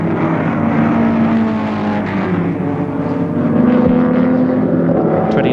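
Ford Escort touring car overtaking another car at Warwick Farm in a 1973 race, engines roaring loud and close with a sustained, slightly rising and falling drone, no talk over it.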